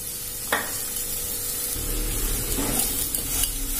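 Curry leaves and chopped coriander sizzle steadily in a hot pan for a chicken curry dosa, with a few sharp spatula stirs and scrapes cutting through the frying hiss.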